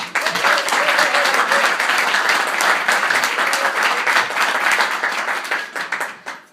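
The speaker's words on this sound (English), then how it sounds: "How about another round of applause for my good friend Dick Lee." Sustained audience applause and clapping at a live radio vaudeville show, loud and dense throughout before thinning and tapering off at the end.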